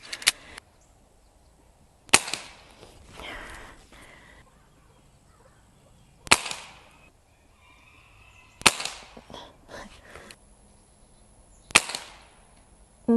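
Shots from a Seneca Dragonfly MK2 .177 pneumatic pump airgun, five sharp cracks spaced a few seconds apart, with quiet handling noises from pumping between them and no voices.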